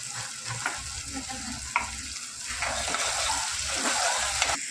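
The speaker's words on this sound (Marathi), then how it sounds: "घालून घेतलाय आपला कांदा आणि टोमॅटो आता मस्त फ्राय होतोय" Onion, tomato and fenugreek fry in a pan for biryani, giving a steady close sizzle with stirring scrapes and soft crackles that swell toward the end.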